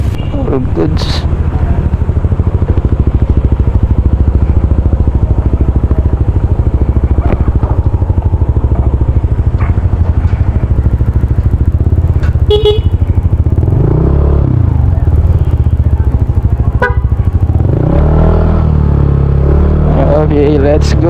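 A Yamaha NMAX scooter engine runs close and loud, a continuous low rumble with slight shifts in pitch and some clattering toward the end.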